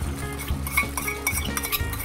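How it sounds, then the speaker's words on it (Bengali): Boiled potatoes, slit green chilli and beaten egg stirred in a pot, with a spoon clinking and scraping against the metal in a few quick strokes under a steady background hum. "দিয়ে আমি নেড়ে দেবো"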